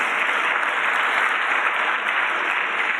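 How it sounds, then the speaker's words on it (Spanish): Steady, dense applause from a congregation honoring the King during an evening church service, loud and continuous throughout with no pauses or speech. "Démosle otro aplauso al Rey bendito"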